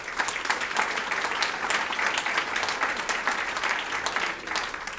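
An audience applauds steadily through a State of the Region address by a congresswoman in Torrance, California: dense, continuous clapping that fills a hall at an even level without letting up.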